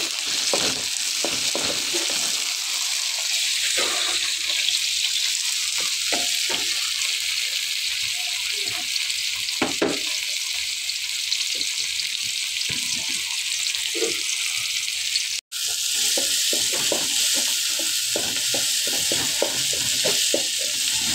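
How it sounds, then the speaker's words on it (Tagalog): Tomatoes browning in a frying pan give a steady, loud sizzle throughout, with frequent scraping taps of a spatula stirring them. "Ibrownin natin ang kamatis."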